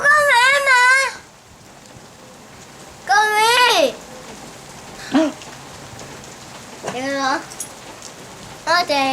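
Steady rain from a storm hisses softly in the background, while a voice breaks in with several short, sing-song bursts close by.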